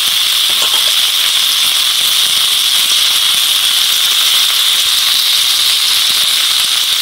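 Cauliflower frying in a pan gives a loud, even, unbroken hiss of sizzling oil and steam, heard close and alone throughout.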